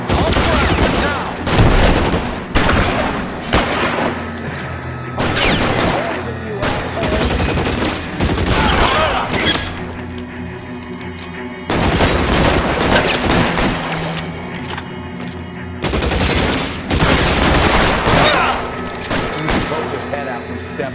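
Gunfire in the crime game L.A. Noire during a traffic case shootout, loud sustained bursts of shots and booms in several long volleys separated by brief lulls.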